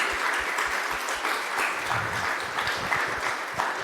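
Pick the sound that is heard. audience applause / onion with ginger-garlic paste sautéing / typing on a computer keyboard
audience applause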